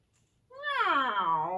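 A cat gives a single drawn-out meow, close and fairly loud, rising and then falling over about one second after a short quiet pause.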